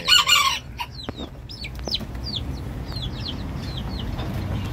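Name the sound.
Java junglefowl crowing and clucking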